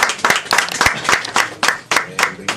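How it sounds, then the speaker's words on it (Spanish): An audience applauds to welcome a speaker at a book presentation, steady close clapping from a small crowd that carries on throughout at moderate loudness with no voices. "Lo recibimos con aplausos."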